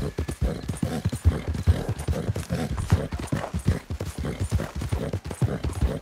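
Horse hooves clip-clop steadily in Red Dead Redemption 2, a brisk rhythmic trot of hollow thuds, close and continuous, with no talking over it.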